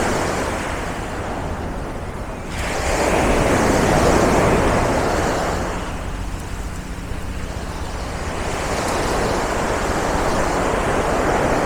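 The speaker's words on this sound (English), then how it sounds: "the sound of the sea." Sea waves wash onto a beach in Barcelona, a broad steady surf rush that swells loudly around the middle and stays close, with some wind noise and no talk.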